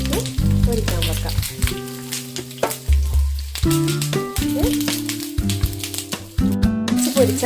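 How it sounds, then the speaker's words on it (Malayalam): Pieces of fish laid on leaves in hot oil, loud close sizzling and crackling with sharp pops and spits, intensifying as each piece goes in. "ഓരോ പീസെടുത്തിട്ട് പൊരിക്കാൻ വെക്കാം."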